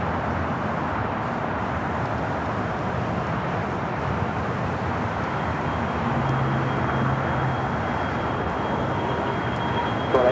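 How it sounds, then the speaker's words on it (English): A United Airlines Boeing 737-900ER takes off at Los Angeles airport with a broad, steady engine roar heard from a distance, unbroken for the whole stretch. "At takeoff is United Airlines 2192 taking off to Houston Intercontinental on a 737-900 ER."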